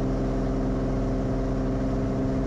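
A light aircraft engine holds takeoff power on runway 28 left at Monterey, turning about 2620 RPM: a loud, steady, close droning hum with no pauses or talk.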